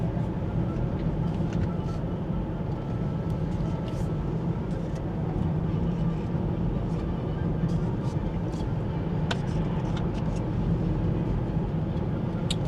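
A car drives along the East Antrim coast road in Northern Ireland, its steady engine and road rumble continuous and close throughout.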